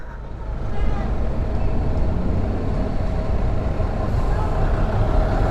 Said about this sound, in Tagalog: Matagal pa magtitiis sa traffic dito sa baba.